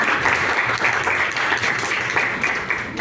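Audience applause at a Maranhão community talk event in São João Batista, a dense, steady wash of many hands clapping at close range, holding loud and even throughout with no talk over it.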